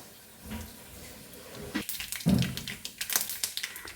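Mustard seeds crackle in hot coconut oil for a leafy curry, starting as a soft sizzle, then breaking into a quick, irregular run of sharp, close pops and spatters with no talking.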